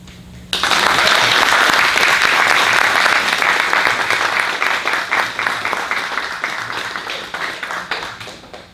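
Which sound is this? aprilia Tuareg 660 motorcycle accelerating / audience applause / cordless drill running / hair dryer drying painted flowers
audience applause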